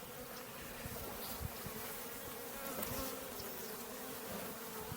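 Small fall swarm of honeybees being moved from one hive box to another: dense continuous buzzing close at hand, steady and even throughout with slight swells, no voices.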